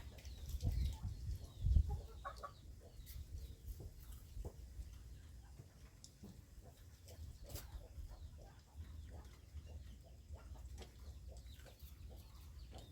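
Chickens cluck and call in short scattered bursts across a farmyard, with low rumbling handling noise near the start and faint background activity throughout.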